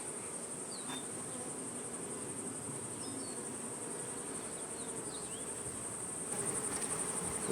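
Honey bees hum around open beehives while two colonies are combined, a steady dense buzz filling the whole stretch with brief passing whines of nearby flyers and a slight lift in level near the end.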